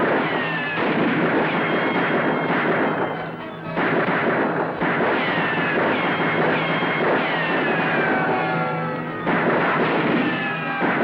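Rapid gunfire in a shootout, with dense bursts of shots and ricochet whines crackling almost continuously, loud and close, with brief lulls between volleys.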